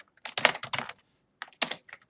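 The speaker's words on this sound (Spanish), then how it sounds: "hacemos un clic, tocamos la tecla Enter y nos va a arrojar el total" Computer keyboard keys clattering in two quick bursts of typing, close and crisp, separated by a short pause with no voices.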